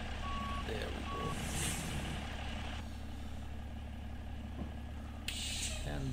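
A truck in American Truck Simulator backs up with evenly spaced electronic reversing beeps over a low, steady engine rumble, heard clearly and close.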